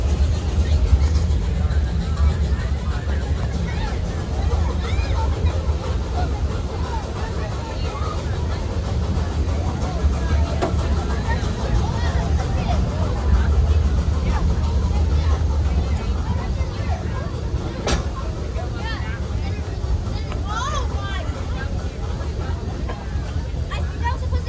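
Shay steam locomotive No. 1 Dixiana of the Roaring Camp Railroad rolling through a redwood forest, a steady low rumble of the moving train heard from on board under a continuous babble of passengers.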